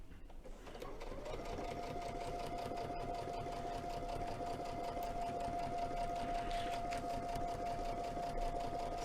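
Sewing machine top stitching the bottom seam of a fabric bag, a steady, continuous motor whir with a rapid needle rhythm, close and loud from start to finish.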